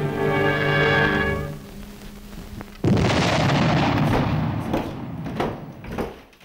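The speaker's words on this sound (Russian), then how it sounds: "33 вагона взрывчатых веществ гигантским взрывом выроют траншею для открытой" A huge explosion from 33 wagons of explosives blasting open a coal trench for open-pit mining: a sudden loud blast follows a sustained humming tone, then rumbles on and slowly fades over several seconds.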